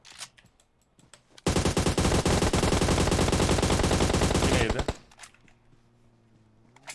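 Sustained automatic gunfire in the mobile battle game PUBG Mobile, a loud, continuous rattling burst lasting about three seconds, with voices talking before and after it.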